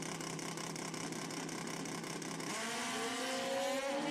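Suzuki and Kawasaki drag racing motorcycles burble and idle at the start line, then launch sharply into a loud, rising engine howl midway through.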